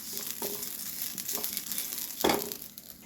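Grated coconut roasts lightly in a pan with a soft, steady sizzle and occasional scraping stirs.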